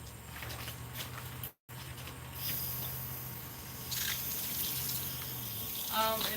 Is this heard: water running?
yes